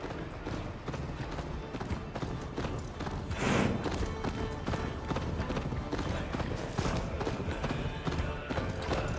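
A horse gallops in Assassin's Creed Valhalla, rapid rhythmic hoofbeats pounding steadily throughout with a brief louder whoosh partway, under occasional game voices.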